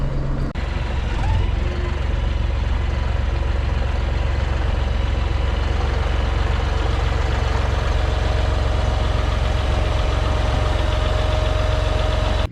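A John Deere 5075M tractor with a front loader fitted idles steadily while backing up to a hitch, its diesel engine a loud, constant near rumble with a slight knock throughout.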